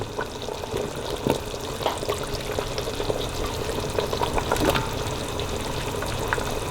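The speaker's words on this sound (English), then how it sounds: "Now we're going to add the potatoes." Potatoes dropped into a lamb meatball curry at a rolling boil, with continuous bubbling and sizzle under scattered clinks and splashes as the pieces go in, moderately close and steady throughout.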